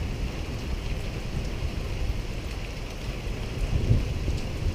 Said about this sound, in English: the good Lord's gonna give us a little bit of rain